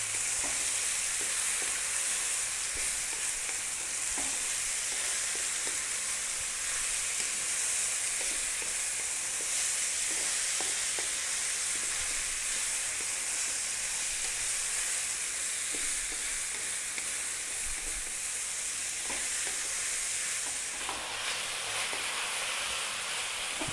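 Chicken chow mein stir-frying in a pan, a steady loud sizzle with scraping and stirring clatter running throughout, no talking.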